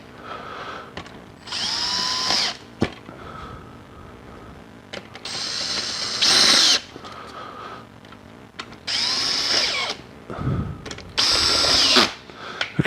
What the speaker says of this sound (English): I realised with this drill that I can just go down, I'll just pull the head down